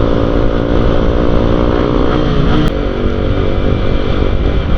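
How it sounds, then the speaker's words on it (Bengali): A Bajaj Pulsar NS motorcycle engine runs loud and close with a steady, throaty drone and a brief dip near the middle, heard alone without talk. "হ্যাঁ, সাউন্ডটা চেক করো NS-এর।"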